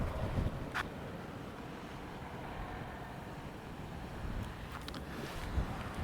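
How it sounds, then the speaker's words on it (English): Wind buffets a microphone outdoors beside a camper van, a steady rumbling roar with a few gusty swells, heard alone without voices. "It's a bit windy still"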